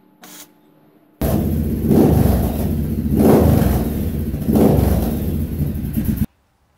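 A Triumph Bobber motorcycle with a custom exhaust fires up close by and revs hard in three deep, throaty surges before cutting off abruptly.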